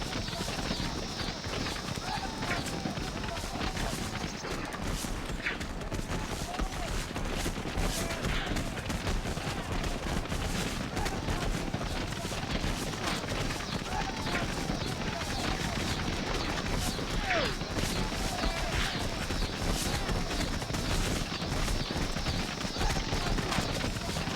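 Musket volleys and scattered rifle fire from a Civil War battle at Bull Run in a brigade strategy game, dense and continuous with horse hoofbeats, under steady ambient game noise and talk.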